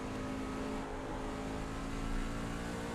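A race car engine held at full throttle in a racing video game, a loud steady drone that stays close and level throughout with no breaks.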